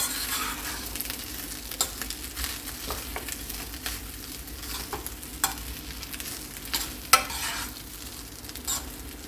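Peanut rice being stirred and mixed in a pan, with soft scraping and a low steady sizzle underneath, occasional louder clacks of the spoon against the pan, close and continuous with no talking.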